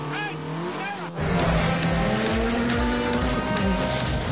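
A twin-engine Pikes Peak Golf II race car engine roars loudly at close range, rising sharply after a brief quieter start and holding a strong, throbbing drone to the end.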